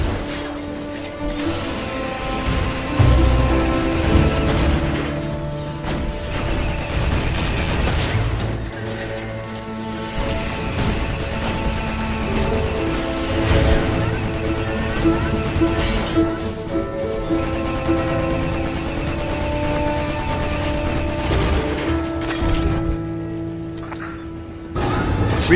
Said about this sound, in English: Engaging more missile turrets.